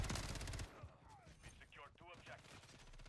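Rapid automatic gunfire from the FJX Horus in a video game, a quick rattling burst up front followed by game sounds and scattered shots, with a player talking.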